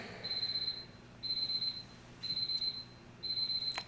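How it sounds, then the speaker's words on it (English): An alarm clock beeps on its own in four evenly spaced bursts about a second apart, each a rapid run of high electronic pips, moderately loud over a faint background hum. "I set like 2 alarms."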